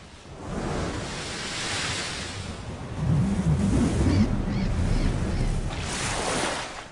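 Stormy ocean surf, broad rushing waves surging and receding in long swells with a heavier, louder crash in the middle, wind noise woven through and no voices.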